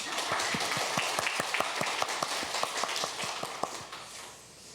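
A church congregation claps together in a steady rhythmic beat, about three to four claps per second, over a bed of looser scattered applause in a reverberant hall.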